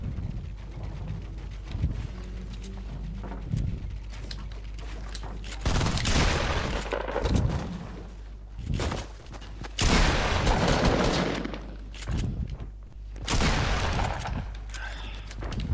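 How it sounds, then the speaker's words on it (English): Bursts of gunfire from two players in the video game Fortnite, with booming shots arriving in several loud, uneven clusters over a low rumble. "watch out, you got two people firing."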